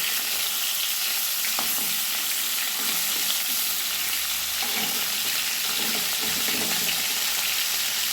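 Hilsa fish pieces frying in a pan, a dense continuous sizzle with faint scraping as the fish are flipped, no talking.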